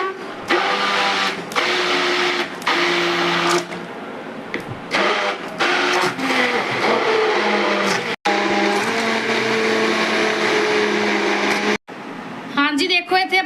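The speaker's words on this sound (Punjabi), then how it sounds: "ਇਸ ਤੋਂ ਬਾਅਦ ਆਪਾਂ ਹੁਣ ਇਹਦੇ ਵਿੱਚ ਘੁਮਾ ਦਾਂਗੇ ਬਲੈਂਡਰ ਬਲੈਂਡ ਕਰ ਲਾਂਗੇ ਜੀ ਚੰਗੀ ਤਰ੍ਹਾਂ" An electric blender churns a homemade mango drink in the style of Frooti, with lemon juice added. The loud, close motor runs in long droning bursts separated by short pauses, with rattling near the end.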